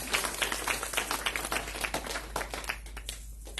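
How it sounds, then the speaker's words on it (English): Steady applause from a crowd, a dense patter of many hands clapping at moderate volume, continuing without pause before thinning slightly at the end. "Let's give these supporters a round of applause"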